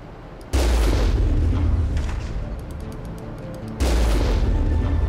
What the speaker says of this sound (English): The stream of rockets coming.